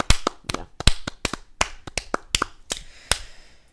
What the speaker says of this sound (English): let's give ourselves a round of applause here